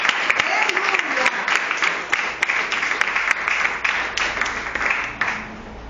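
Church congregation at an evangelical service claps together for several seconds, a continuous patter of hands with voices mixed in underneath.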